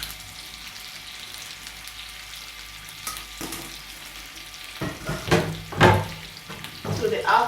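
Chicken breast goes into a pan of ackee frying on low heat, with soft steady sizzling followed by clattering stirring and a few sharp bursts of spatter near the end.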